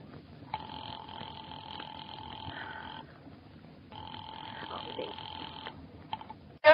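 A telephone rings in an old radio drama: two long, buzzing rings separated by a pause, heard as if down the line, over a hissy background hum.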